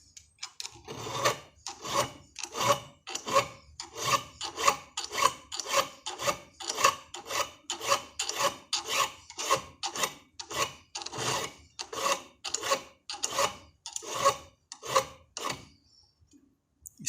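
Steady back-and-forth rasp of a hand file sharpening an auger drill bit, about two dozen even strokes in a regular rhythm, close and clear with no talking.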